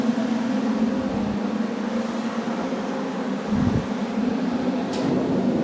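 A garage heater running in winter gives a continuous, fairly loud fan-like hum and whoosh at close range, steady throughout with a slight low rumble midway.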